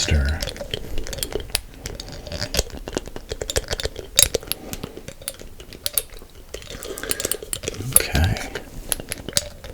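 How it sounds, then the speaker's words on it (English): A spoon stirs a mixture in a container, producing repeated light clinks and scrapes at an uneven pace, close and fairly crisp, with brief soft sounds in between. "Give it a good stir."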